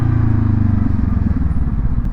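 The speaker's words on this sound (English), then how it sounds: "The little burble again from the exhaust" A 2026 Honda Scrambler 500 (SCL500) motorcycle gives a loud, close exhaust burble, a rumbling, uneven low note that dips and pulses while riding.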